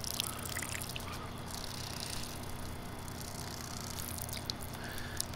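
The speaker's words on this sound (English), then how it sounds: "Self primes, water comes out." Water pours steadily from the faucet of a Dometic hydration jug used as a portable camping water system, a continuous close trickle lasting several seconds with no one talking.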